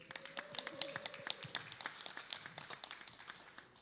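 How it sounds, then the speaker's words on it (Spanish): Faint, distant applause from a church audience, a short run of scattered claps with a soft tonal hum underneath. "Un aplauso para Paloma otra vez."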